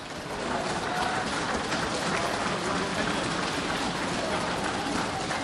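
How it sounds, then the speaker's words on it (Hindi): Applause in the Lok Sabha parliamentary chamber, a broad, steady wash of many members clapping together, sustained and even throughout without a clear break. "जरा तालियां बजा के स्वागत कर दो उनका एक बार।"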